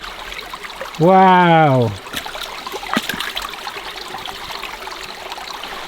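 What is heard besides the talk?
river water flowing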